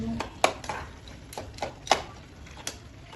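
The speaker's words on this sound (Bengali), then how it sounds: "এর মধ্যে এবার আমি দিয়ে দিলাম নকুল দানা। ভালো করে এবার মিশিয়ে নেব।" A utensil stirs nakul dana sugar drops in a cooking pan for a Bengali tomato chutney, giving a series of sharp clinks and scrapes against the metal at an irregular pace, close and fairly quiet.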